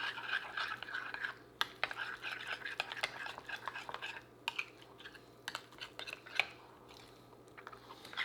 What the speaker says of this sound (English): And give it a mix.